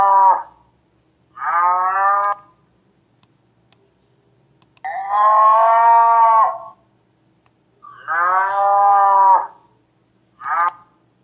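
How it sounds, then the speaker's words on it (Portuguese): A cow moos five times, long loud calls spaced by quiet pauses, close and alone with faint clicks between. "Que animal é este? Isso mesmo, é a vaca."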